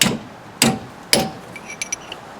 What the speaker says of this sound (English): So big old hammer, chisel right through that guy